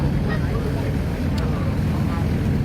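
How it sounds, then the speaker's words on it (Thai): Aboard a small riverboat in Laos, a loud engine drone rumbles steadily and without a break, close by, mixed with water and wind noise. "นี่คือบรรยากาศ ในเรือเนาะ"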